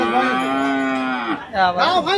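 A cow moos loudly and close by: one long, low drawn-out call, then shorter rising and falling lows.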